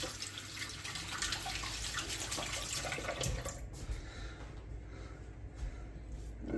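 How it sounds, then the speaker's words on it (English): Faint running tap water splashes as hands are washed at a sink, then the flow stops and only quiet dripping remains. "I'll wash my hands."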